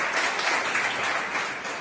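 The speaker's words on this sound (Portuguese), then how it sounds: "Você pode aplaudir o Senhor?" A church congregation applauds during a worship service, a dense, steady wash of many hands clapping together for a couple of seconds, fairly close and without talk.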